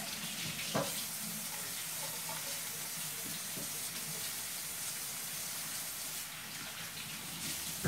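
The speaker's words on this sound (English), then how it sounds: "I'm going to rinse my hands again" A kitchen water tap runs steadily while hands are rinsed under it, a continuous close hiss of water with no talk.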